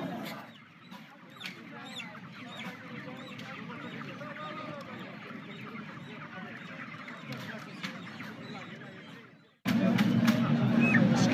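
A chicken squawking and clucking in agitated bursts throughout, mixed with people talking and background noise, ending in a sudden louder section.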